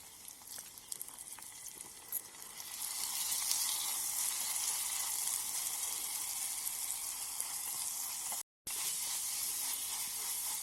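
Tomatoes frying in a miniature pan while vegetable biryani is cooked, a soft continuous sizzle that grows steadier after a few seconds and drops out briefly near the end.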